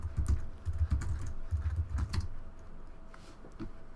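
Typing code on a computer keyboard, a quick close run of soft key clicks in uneven bursts that trails off toward the end, with no voices.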